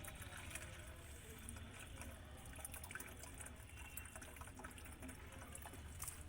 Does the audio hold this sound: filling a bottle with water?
yes